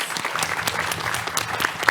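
An audience at a live PAX West panel applauds in a dense, steady patter of many hands clapping at close range, with a few whoops mixed in.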